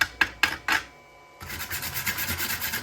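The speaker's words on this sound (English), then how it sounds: "Using the provided chipping hammer, knocking my slag off." A chipping hammer raps three sharp knocks against slag on a sheet-metal MIG weld, followed by a brief quiet. A steady, raspy scraping then runs to the end.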